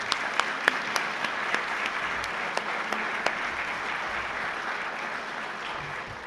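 Audience applause at a university scholarship panel discussion, a broad steady wash of clapping with a few sharp individual claps standing out early on, moderately loud and fading slightly toward the end.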